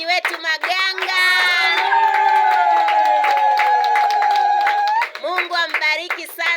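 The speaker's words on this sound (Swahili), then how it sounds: "Makofi kwa ajili ya mchungaji wetu Maganga." A church congregation gives the pastor Maganga a burst of loud, sustained applause, with many hands clapping close by and voices cheering over it. The clapping thins into scattered claps near the end.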